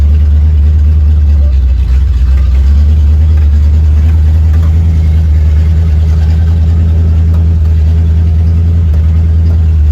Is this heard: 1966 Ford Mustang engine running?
yes